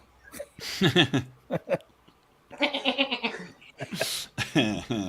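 A person imitates goat bleats with several wavering, nasal cries in bursts, with short pauses between them.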